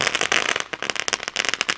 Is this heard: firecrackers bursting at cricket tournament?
yes